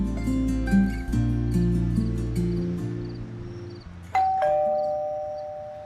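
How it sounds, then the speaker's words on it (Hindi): A doorbell chimes in a Hindi TV drama scene, two clear ringing tones that cut over swelling romantic background music, near and loud. "और एकदम घंटी बजी।"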